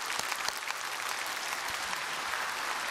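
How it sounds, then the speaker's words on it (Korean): Church congregation applauding in blessing during a Korean sermon, a short burst of dense, steady clapping from a large gathering, filling the room evenly. "다시 한번 우리 축복의 박수를 하시깁시다"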